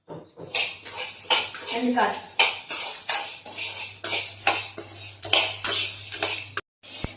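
Peanuts dry roasting in a pan, with repeated scraping and clinking of a metal spoon against the pan in a steady stirring rhythm, close and fairly loud, under a low hum.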